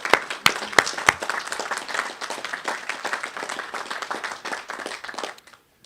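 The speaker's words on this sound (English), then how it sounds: "So a round of applause to Ms. Hand." Audience applause at a graduation commencement ceremony for a school class, a dense wash of clapping with a few sharp loud claps early on, holding steady for about five seconds before cutting off abruptly.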